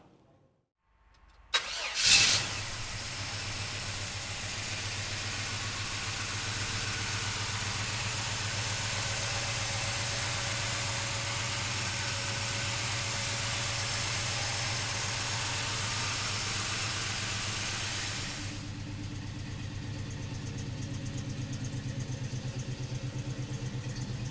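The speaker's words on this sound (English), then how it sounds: "So come on up, we'll fire it up for you right now." A 1970 Chevrolet Chevelle with a crate motor cranks briefly and fires up with a loud roar, then settles into a steady, rumbling idle that continues close and alone for over twenty seconds, dropping slightly in tone near the end.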